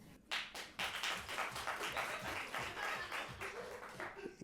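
Applause from a live audience at an LA comedy podcast taping, starting abruptly then a dense, sustained burst of many hands clapping that gradually thins out toward the end.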